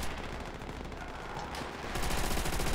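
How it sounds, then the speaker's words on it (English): Continuous machine gun fire in Call of Duty: World at War, a dense, steady rattle of rapid shots at moderate volume that intensifies slightly toward the end, with no talking. "There's the machine gun."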